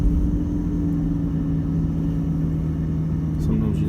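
A vehicle engine drones steadily at a low, constant pitch while driving through beach sand, loud and close with a rumbling tone that holds throughout.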